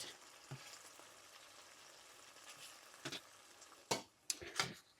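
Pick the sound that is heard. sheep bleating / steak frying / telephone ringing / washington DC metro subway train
steak frying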